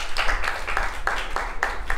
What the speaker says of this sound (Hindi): तालियां बजाएं टीम ए के लिए।